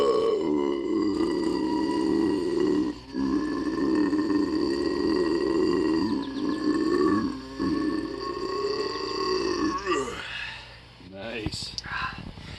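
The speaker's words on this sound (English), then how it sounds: "Finish it off with a burp." Loud, long, croaky burps come after chugging a Fanta Pineapple, one drawn-out belch rumbling on for several seconds, then shorter bursts, close to the listener.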